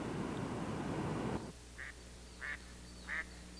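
A loud broadband rush of noise cuts off, then three short nasal quacks from a black duck follow at even intervals, fairly close and standing alone, in a salt marsh.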